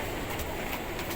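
A local train pulls into Virar railway station at night, a continuous rumbling roar with faint clatter, heard steadily without speech.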